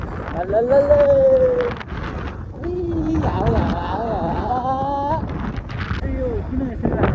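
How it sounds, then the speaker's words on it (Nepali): Strong wind blowing through the Mustang mountains, a steady rushing buffet on the microphone under someone talking throughout. "अब हावा त्यस्तो चलिरहेको छ तपाईँहरूले हावा मात्र करा सुने होला"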